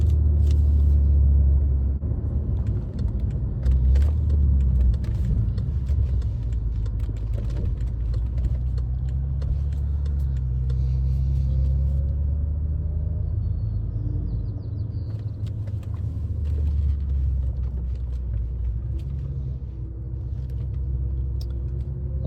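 Steady low rumble of a BMW F10 M5 engine while driving, a deep continuous drone with gentle swells as the car moves, no talking.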